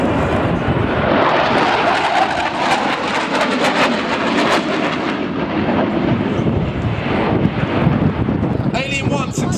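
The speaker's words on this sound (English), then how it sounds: "Alien 1 successfully evades the missile by flying off flares out the back of the aircraft." A Tornado GR4 jet roars overhead at an RAF Leuchars air show, a loud sustained engine rumble with wind buffeting and a faint crackle near the end, while an announcer speaks over the public address.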